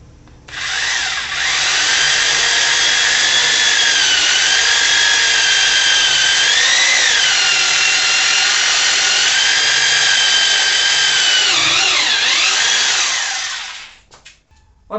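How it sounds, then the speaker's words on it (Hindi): An Aimex DT-226 SDS-Plus rotary hammer drill with a 13 mm metal bit bores into wood, a loud steady high-pitched whine that runs for about thirteen seconds, wavering in pitch as the load changes, then winds down and stops. "ये 13 mm का मेटल का बिट है, जिससे हम लकड़ी में छेद करके आपको दिखाने वाले हैं।"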